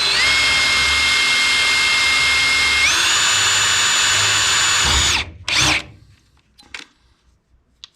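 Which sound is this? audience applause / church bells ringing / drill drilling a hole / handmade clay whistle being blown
drill drilling a hole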